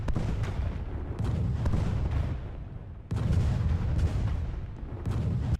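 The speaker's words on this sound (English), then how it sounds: "The psychological effects of the bombardment were as serious as its material damage." Cannon bombardment of Constantinople's walls in Age of Empires 2, heavy booming shots in quick succession with rumbling impacts, a brief pause, then another dense volley of loud blasts.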